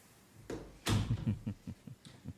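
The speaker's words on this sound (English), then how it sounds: "I'm gonna shut the door." An indoor door swings shut with one loud thud, followed by a few softer knocks and rattles as it settles, heard close by.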